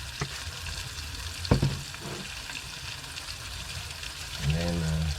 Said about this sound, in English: And then wait for your onions to get ready.